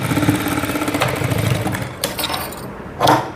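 Sewing machine stitching fabric to join a hem without hand hemming, a steady fast mechanical whir with rhythmic needle ticks that runs on and off, close and fairly loud, with no voices.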